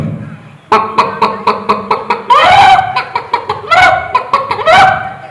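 Chickens being fed are voiced by a mimicry artist at a school arts festival stage competition: quick, excited clucks in a run, broken by higher rising squawks, loud and close-up, all from one human voice.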